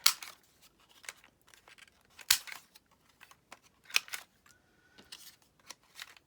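A corner rounder punch cutting card stock, giving sharp close clicks and crunches spaced irregularly through a quiet room with brief rustles of the card.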